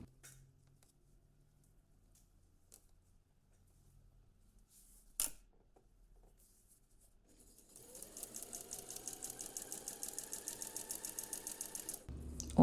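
Sewing machine stitching the final seam of a western-style blouse, a steady rapid mechanical chatter starting partway through and running close and fairly loud until a clunk near the end, after quiet handling noises.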